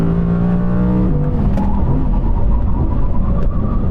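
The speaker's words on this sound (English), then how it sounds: "he's really warming up his tyres now" A drag race car, BMW M3 or Audi R8 GT, revving loudly at the line to warm its tyres, a close, heavy engine drone rising and then settling into a rough rumble.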